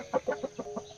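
Chickens clucking in a quick series of about five short, close clucks over a faint background hum.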